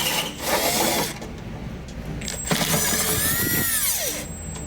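A power drill drives two short stubby screws into the tailgate window track of a Jeep Grand Wagoneer, giving a close, continuous whirring and grinding with a rising and falling motor whine and no voices.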